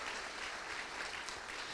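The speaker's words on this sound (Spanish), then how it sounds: "Dale un fuerte aplauso a Dios si así lo cree" Applause from a church congregation during a sermon, a steady, dense wash of clapping that fills the whole stretch at an even level with no voice over it.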